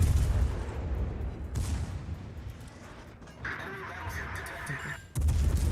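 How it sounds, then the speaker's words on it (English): Secondary guns on a warship in World of Warships fire in booming bursts, with a sustained rumble of battle underneath and a heavy thump at the end. "You can hear my secondary guns trying to fire off."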